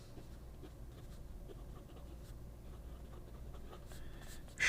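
Soft scratching of a titanium EDC pocket pen fitted with a Schmidt fine nib moving across paper, a faint, steady, close-up scratch with light strokes over a quiet background and a brief louder noise at the very end.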